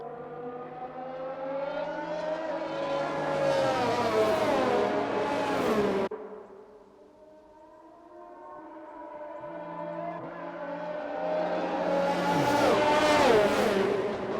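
A safety car engine in a racing video game, at the Belgian Grand Prix, whines loudly as it climbs in pitch, fades, then winds up again in a second long rising pass. No other sounds intrude.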